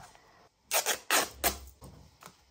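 Cardstock strip being cut in half, heard as a few crisp snipping bursts, nearby and fairly loud, in an otherwise quiet room with no talking.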